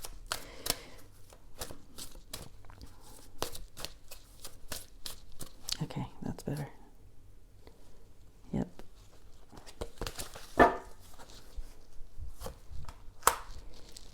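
Rapid riffling bursts of cards being shuffled, repeated several times close up, with brief pauses and a few sharp snaps between them.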